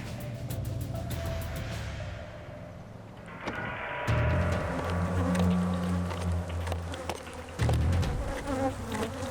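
Agitated bees buzzing loudly after a hot truck ride, a dense, close swarm drone with shifting pitch that swells and rises partway through, steady under faint background noise and no speech.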